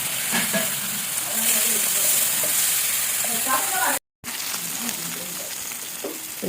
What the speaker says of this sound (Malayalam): മീനവിടെ ഫ്രൈ ആവുന്നുണ്ട്.